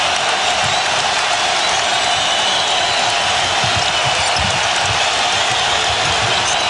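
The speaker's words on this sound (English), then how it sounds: "This crowd does not need a noise meter." A packed Boston arena crowd roars continuously during a 2008 Eastern Conference Finals Celtics–Pistons playoff game, a dense, loud, unbroken wall of cheering with no pauses.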